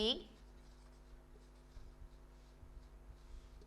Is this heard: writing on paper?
yes